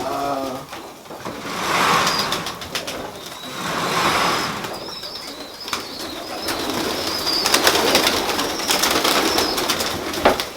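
Tippler pigeons cooing in a loft, repeated soft throaty coos in bursts with a rhythmic mechanical rattle and faint background voices.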